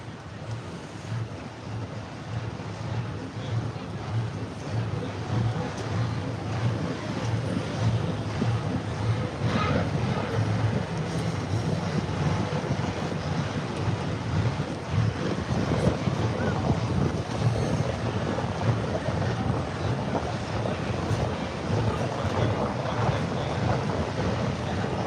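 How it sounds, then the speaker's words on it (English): Strong wind buffeting a microphone outdoors at a grudge drag-racing event, a continuous rumbling roar that persists loudly throughout with a voice faintly underneath. "Sean Rose, the wind is blowing, so I couldn't light the lighter"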